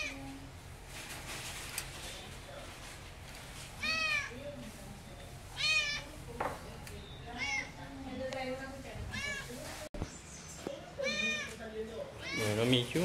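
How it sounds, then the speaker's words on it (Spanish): A pet house cat meows repeatedly, several drawn-out, rising-and-falling cries spaced a second or two apart, close and clear, with a person speaking softly in between. "Así es como maulla un gato, escúchenlo."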